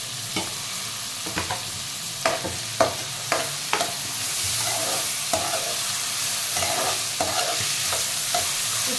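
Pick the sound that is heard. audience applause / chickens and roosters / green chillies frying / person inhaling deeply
green chillies frying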